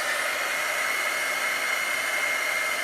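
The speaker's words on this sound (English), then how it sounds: "simply take a heat gun or a blow dryer." A blow dryer or heat gun drying chalk paste on a Christmas craft project gives a steady, loud, close whooshing hum that runs without a break and without any talk.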